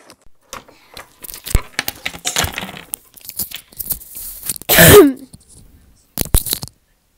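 One loud, close cough bursts out in the middle of scattered handling and rustling noises, with a few sharp clicks and taps before and after it.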